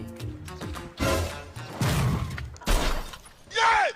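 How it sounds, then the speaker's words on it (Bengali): A motorbike is let go and topples over, making several heavy clattering crashes in quick succession, with voices around it. "বাইকটা ফেলে দিলেন কেন"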